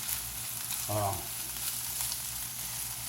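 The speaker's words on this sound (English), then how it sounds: "just slide your onions in there and let them start to cook" Onions for a Philly steak and cheese wrap fry in a pan with a steady, close sizzle and a brief faint voice partway through.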